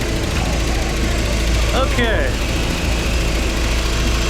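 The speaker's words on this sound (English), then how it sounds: "Is it idling too high, you think?" An outboard motor on a budget boat idles steadily out on the water, a constant low mechanical drone throughout, with a brief word spoken over it.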